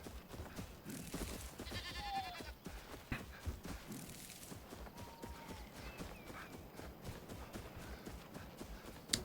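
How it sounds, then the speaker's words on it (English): Goats bleat in a video game farm build, with a couple of short wavering calls rising over a busy bed of clopping, rustling game sounds, at moderate volume. "I don't actually have any of these goats in my build"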